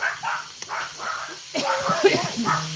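Dogs bark and whimper nearby in short, excited bursts, with a few high yips.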